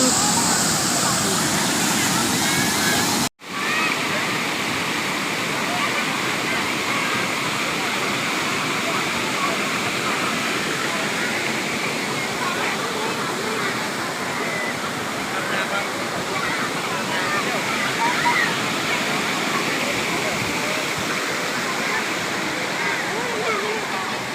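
A waterfall roars steadily at close range, a dense unbroken rush of falling water with a brief dropout early on and no clear voices over it.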